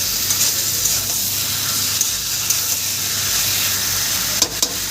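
Jackfruit curry being stirred and fried in a pan, a steady close sizzle with a soft scraping stir running throughout and a few sharper clinks near the end.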